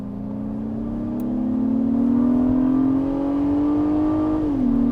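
A 2022 Acura MDX A Spec engine in sport mode, a steady close drone that rises slowly in pitch, then drops sharply as the transmission downshifts near the end.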